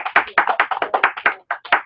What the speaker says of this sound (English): let's give our models a big round of applause